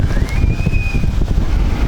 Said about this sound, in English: It's much windier than last time, that's for sure